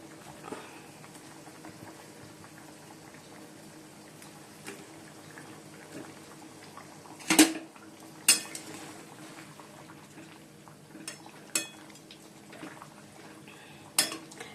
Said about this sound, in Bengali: ঝোল থাকতে থাকতে মাছের ডিমগুলো দিয়ে দিলাম, কেন এটা তো ফুটবে।